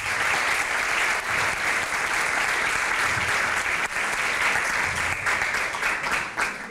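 Audience applause for the two school teams in a debate final, dense and steady clapping filling the room at moderate volume throughout.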